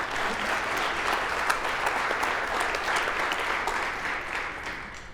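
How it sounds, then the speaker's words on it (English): An audience at a Hall of Fame ceremony gives the committee a steady round of applause, dense and continuous for several seconds before easing slightly at the end. "So let's give them all one big round of applause."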